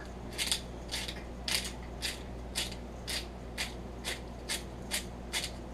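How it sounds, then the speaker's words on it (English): A pepper mill grinding black pepper over trout, giving a steady series of about a dozen crisp, evenly spaced ratcheting crunches, close and moderately loud over a low background hum; no talking. "a little black pepper, freshly ground"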